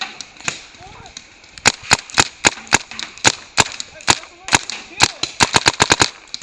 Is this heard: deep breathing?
no